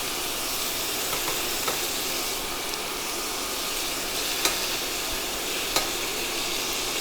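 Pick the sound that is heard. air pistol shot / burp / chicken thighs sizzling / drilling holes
chicken thighs sizzling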